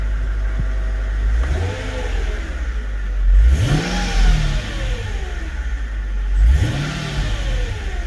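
A Mercedes car engine, suffering an accelerator pedal position sensor (TPS) fault, revs up three times over a steady idle, each rise climbing and falling back, fairly close and loud with no talking.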